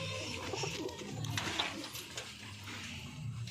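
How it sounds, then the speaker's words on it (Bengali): Faint, soft cooing from a household flock of flying pigeons, low repeated calls blending into gentle background noise throughout. "পায়রাটা ছাড়বো আজকে।"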